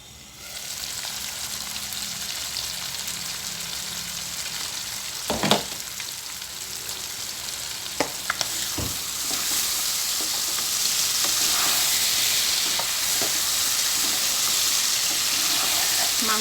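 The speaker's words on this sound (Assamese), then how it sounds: "মাংসৰ পৰা তেল বিৰিঙিছে।" Pork and mushrooms frying in oil in a covered pan, a loud continuous close sizzle with occasional pops and clinks, intensifying slightly toward the end.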